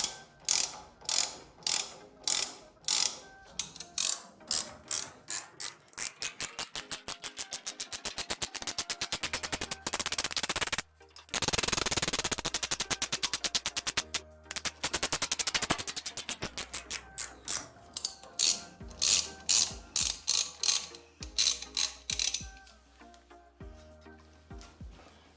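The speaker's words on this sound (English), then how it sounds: "Just gonna tap it now for some threads. for the helicoil." A hand tap cutting threads for a helicoil in a fuel mixer part from a 100-year-old Oldsmobile engine, giving a long series of rhythmic, close ratcheting clicks in bursts with brief pauses.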